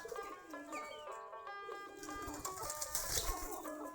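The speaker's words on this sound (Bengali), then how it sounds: "আমাদের 40 থেকে 45 জোড়া এখন কবুতর আছে, সম্পূর্ণ দেশি গিরিবাজ কবুতর" Soft cooing and murmuring from a flock of about 40 to 45 pairs of native Giribaz pigeons fills a loft, with overlapping calls and faint rustling and no speech.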